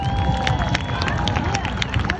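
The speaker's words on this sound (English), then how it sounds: "let's give a round of applause for them" An audience at a senators' proclamation ceremony for Marlon and Jackie Jackson claps in a dense, continuous burst, close and fairly loud, with a little crowd murmur mixed in.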